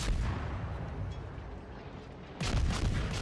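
Naval guns fire during a World of Warships battle, with heavy booming blasts and rumbling reports. A louder salvo lands near the end, and nobody speaks.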